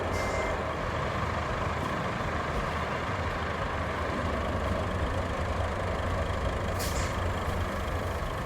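A heavy work truck rumbles steadily in the RoadCraft game, its engine droning loud and continuous, with a brief hiss of air near the end.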